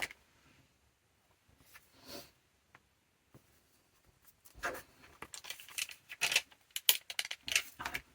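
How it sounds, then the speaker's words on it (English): A sticker is peeled and pressed down onto a paper planner page. Soft crinkles and papery taps start sparse and faint in a quiet room, then build into a cluster of close rustling clicks. "I'm just going to lay down a sticker here that I forgot to do."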